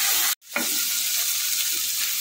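Chickpea and potato masala stir-fries in a pan with a continuous, moderately loud sizzle. A brief silent gap comes near the start, then a stirring scrape.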